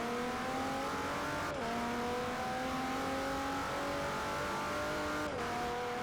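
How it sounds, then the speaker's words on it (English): A car engine in Forza Motorsport 4 revs and holds a steady high drone, briefly dipping twice as gears shift, loud and continuous with no speech. "What engine did they use in these? It wasn't an RB, was it? It sounds potentially like it could be."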